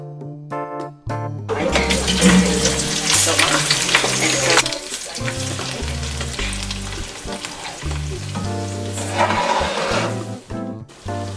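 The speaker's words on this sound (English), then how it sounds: "The process of frying your meat with this palm oil is essential" Loud, steady sizzling and crackling of boiled meat frying in hot palm oil for ayamase (Nigerian ofada stew), with clattering and stirring over a background of music.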